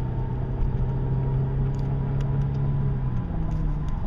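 A 2002 Audi S4 with a 5HP19 automatic gearbox pulls in second gear, its engine giving a steady droning rumble heard from inside the car, with a slight pitch shift near the end and no voices.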